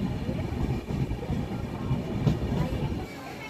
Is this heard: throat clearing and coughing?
no